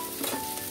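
Onions fry in oil for sambar as spices such as turmeric go into the pan, giving a continuous close sizzle and crackle with a brief stir, and no talking.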